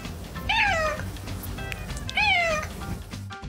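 A ginger cat meows twice, two clear drawn-out calls spaced about two seconds apart, close up over a low background rumble.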